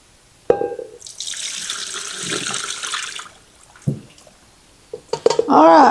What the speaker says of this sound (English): I'm going to take this over here to the sink and drain it through my scoop here